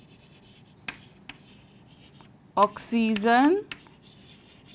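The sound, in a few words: writing on a board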